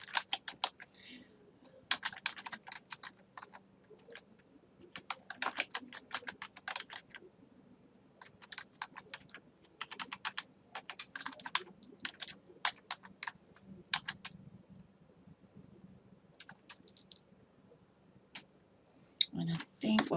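Fingers type on a computer keyboard in quick irregular bursts of soft clicks separated by short pauses, quiet and close, with faint talk in the background.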